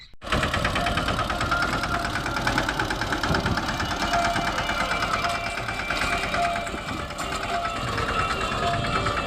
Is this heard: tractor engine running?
yes